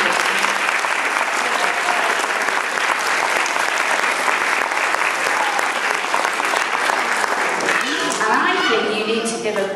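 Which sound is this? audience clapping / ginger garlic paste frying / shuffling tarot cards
audience clapping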